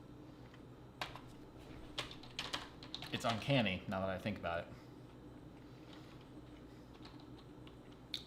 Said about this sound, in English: this keyboard's so hard to type on